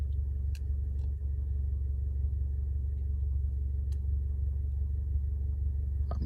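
A car drives slowly along, its low steady engine rumble and road hum continuous from inside the cabin, with a few faint clicks and taps over the drone.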